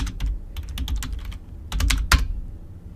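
Rapid keystrokes on a computer keyboard as a search is typed into Google, close and clear, coming in irregular bursts with short pauses and a sharper final key press near the end.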